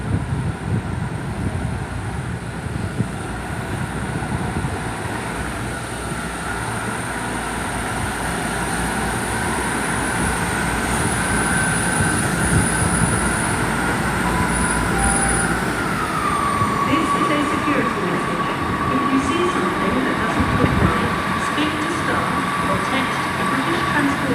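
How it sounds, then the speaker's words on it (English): A South West Trains class 159 diesel multiple unit pulls out of Exeter St Davids station with a steady, rumbling engine drone and rising wheel and rail noise that continues throughout, with a high pitched tone in the background. "And I think the Southwest trains service is, it's departing now."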